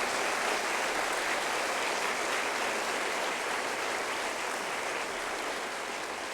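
A church congregation applauds steadily and loudly throughout during a sermon, a dense continuous wash of clapping with no voices on top.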